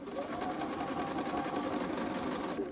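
Close, steady whir of a sewing machine running a quarter-inch seam on Friendship Star quilt pieces, one continuous run without pauses.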